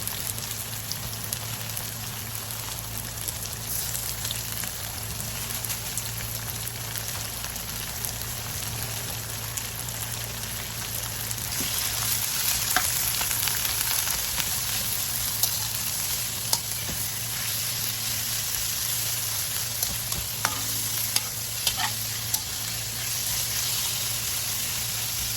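Ground pork or beef frying in a pan with onion and garlic gives a steady close sizzle throughout, growing a little louder partway through with scattered crackles and no talk.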